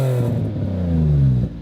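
A used car engine with a modified, louder exhaust revs up close, a deep throaty rise and sustained drone that drops off sharply at the end.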